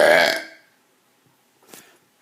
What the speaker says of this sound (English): Big burp coming up.